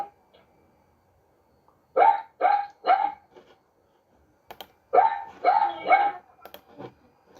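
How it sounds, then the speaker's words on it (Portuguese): A small dog barks in two quick bursts of three or four sharp yips each, close and clear against near silence, with a soft whine or two trailing after. "eu tô ouvindo o cachorrinho aí"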